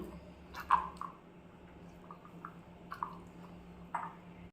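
Wheat flour dough for ghee bobbatlu being mixed by hand with melted ghee, soft wet squishing and sticky smacking sounds at an irregular pace, quiet and close.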